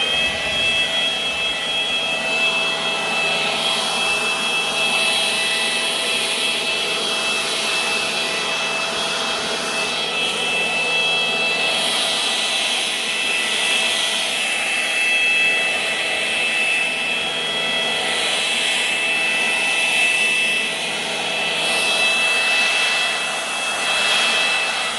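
Gas-powered Stihl leaf blower held at full throttle, a loud, steady roaring whoosh with a high whine on top, continuous and close, with no one talking.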